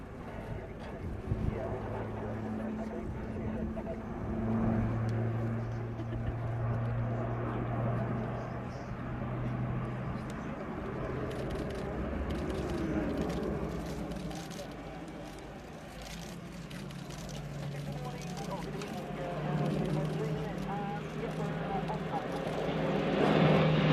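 An Airbus A400M Atlas turboprop performs a flying display at the RIAT 2017 airshow, a broad continuous propeller-engine roar that swells and fades as it passes, with a commentator talking over it throughout.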